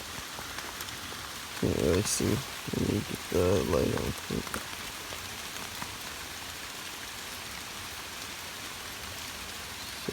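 Steady rain falls on a primitive shelter on an island during a solo survival trip, a constant dense patter throughout, with a person speaking briefly over it near the start.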